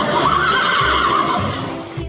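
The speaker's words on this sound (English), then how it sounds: "Horse." A horse neighs in a loud, close whinny that runs the full two seconds, its shrill call wavering before trailing off at the end.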